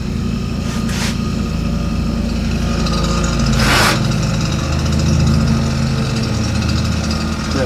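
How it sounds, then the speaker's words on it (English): A belt sander on a workshop bench runs steadily while metal arm parts for a DeWalt DW788 scroll saw are rounded over, a loud continuous motor drone with brief hissing bursts as pieces touch the belt. "So I'll just round these over on the belt sander."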